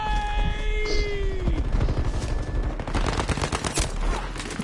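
Rapid bursts of gunfire fill a Battlefield V match, dense crackling volleys and machine-gun rattle overlapping continuously at close range, loud throughout with no voices.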